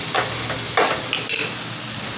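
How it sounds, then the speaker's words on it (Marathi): A lid set onto a cooking pan of methi bhaji simmering on a low flame, giving a few brief metallic clinks and clatters over a soft background hiss. "थोडंसं झाकण ठेवूया"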